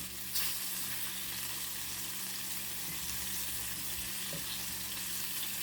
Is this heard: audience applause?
no